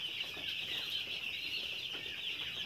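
Chickens clucking in a poultry shed at night during bad weather, a steady dense flock murmur with bright high-pitched chatter, faint and continuous with no voices.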